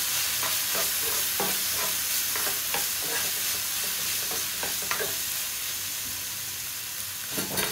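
Chilli powder, garam masala and turmeric stirred in a hot frying pan, a steady sizzle with repeated scraping strokes of a spoon, close and continuous.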